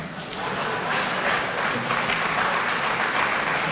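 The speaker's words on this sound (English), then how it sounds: "I expected the whole house to clap for me." Steady, dense applause from a large audience fills a hall at the Nigeria Diaspora Investment Summit at State House, Abuja, a continuous broadband clatter with no speech over it.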